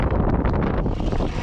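Strong wind blows outdoors and buffets the microphone in a steady, loud, low roar that fills the whole moment, with no voices.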